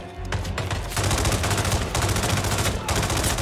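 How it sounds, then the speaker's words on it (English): A big gun in a video game fires in a rapid automatic burst, loud, dense and close, with sustained rattling shots that continue almost without pause. "let me pull out my big gun"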